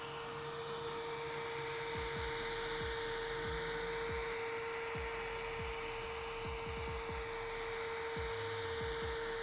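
A polishing machine on a headlight runs at its highest setting as a steady, close whine, with intermittent low clicks and knocks beneath it.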